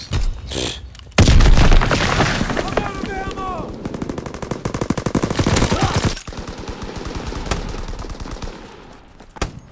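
Machine-gun fire crackles in rapid bursts in Call of Duty WW2, with heavy booms and dense, loud volleys that continue through most of the stretch before fading toward the end.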